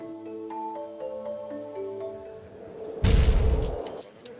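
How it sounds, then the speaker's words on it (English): Fireworks burst with a loud broadband crackle near the end, following a stretch of steady musical tones and chimes from a card game broadcast at a Pro Tour event. "Fireworks flying down there on our main match."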